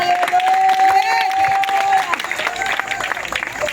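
A crowd applauds and cheers at an outdoor evangelism campaign in Bakoussou, a dense, loud wash of clapping and shouting voices with a sustained sung or shouted tone early on, thinning slightly toward the end.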